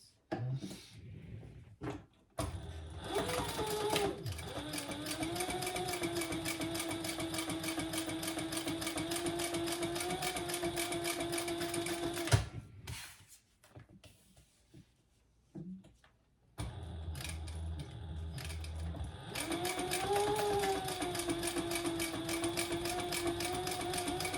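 Sewing machine top stitching a fabric fish pouch, a steady close mechanical whir running for long stretches with a pause and a few clunks midway before stitching resumes, no talking.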